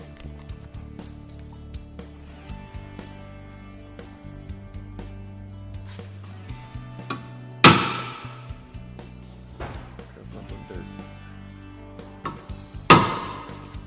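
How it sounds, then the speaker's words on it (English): Center punch being struck against a Ford F350 steel cross member: two sharp metallic impacts, fairly close and loud, separated by about five seconds, over a quiet background. "We can center punch our holes and drill them."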